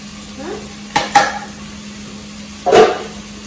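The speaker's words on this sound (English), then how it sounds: "Give that a stir." Spoon stirring chilli con carne with veggies in a pan: a few close, scraping strokes at uneven intervals over a steady low sizzle.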